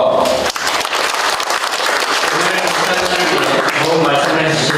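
A hall audience applauds the mayor at a town-hall meeting with residents, with steady, dense clapping that fills the room continuously for several seconds.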